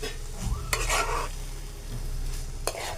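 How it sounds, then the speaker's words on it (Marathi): Bharangi wild vegetable is stirred in a pan as it sautés, with a soft sizzle under a couple of sharp metal spatula scrapes and knocks against the pan, close by. "आपण परतून घेऊया परत भाजी"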